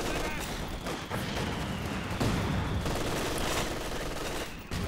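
Mortar fire and battle noise in the strategy game Company of Heroes 2, with continuous dense explosions and gunfire over a loud mix while a commentator talks over it.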